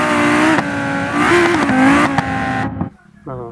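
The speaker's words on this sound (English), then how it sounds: "This is car, racing car." A toy racing car makes a loud, continuous engine-revving sound whose pitch swells and dips for nearly three seconds, then cuts off abruptly, followed by a short, quieter burst.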